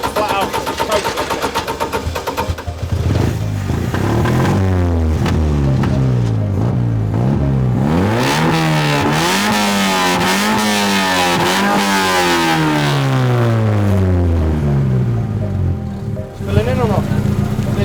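Car engine with a freshly adjusted carburettor float level cranks, catches and revs hard at full throttle in repeated rising and falling sweeps, loud and close, before dropping back.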